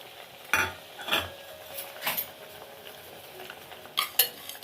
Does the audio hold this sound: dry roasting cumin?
yes